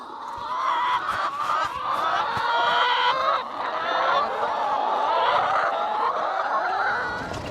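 Meat chickens out on pasture make a steady, dense chorus of clucks and honking calls that carry through the whole stretch, with no talking.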